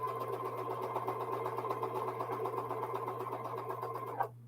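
A sewing machine stitches jelly roll quilt pieces, joining star points to purple strips, in a continuous even whir with a steady hum beneath, quiet and alone, ending abruptly after about four seconds.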